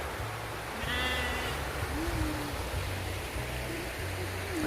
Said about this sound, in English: It's currently standing in a field surrounded by sheep.